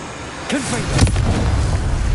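A Confringo blasting spell is cast in Hogwarts Legacy: a brief swooshing burst followed by a booming impact with a rumbling tail, loud and close, with no one talking.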